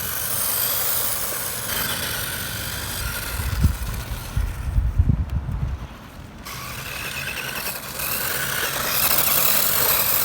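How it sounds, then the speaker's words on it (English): The gearbox of a restored 1986 Ishipla Monster RC buggy runs loudly nearby, a continuous whining mechanical drone with gear rattle that swells and surges mid-clip, dips briefly, then resumes steadily. "the gearbox is a little on the loud end"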